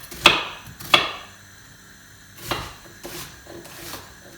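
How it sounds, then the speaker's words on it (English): A handful of sharp knife taps on a cutting board while finely chopping a red onion, spaced irregularly with quiet gaps between them, close and fairly soft. "I'm going to chop the onion"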